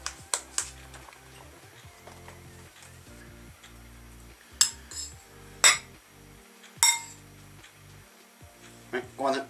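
Dishes and cutlery clink while chili and rice are served, a handful of sharp clinks and taps spaced out over quiet background, with people talking in between.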